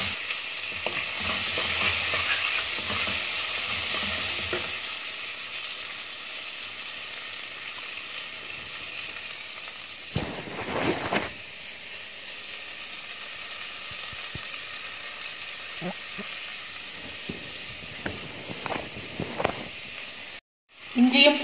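Sliced big onions sauté in hot oil in a pan, a loud steady sizzle that gradually settles into softer frying hiss, with occasional stirring scrapes and clatter.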